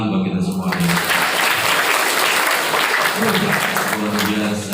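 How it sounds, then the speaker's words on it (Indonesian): Applause from a crowd at a live motivational event welcoming new santri at an Islamic boarding school in Rajapolah, Tasikmalaya, a steady dense wash of clapping with voices and cheering mixed in throughout. "Tepuk tangan bagi kita semuanya."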